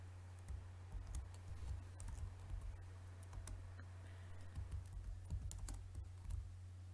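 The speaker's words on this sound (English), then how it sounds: "and type it." Text is typed on a computer keyboard in image-editing software, giving soft, quiet key clicks in uneven bursts over a steady low electrical hum, with no speech.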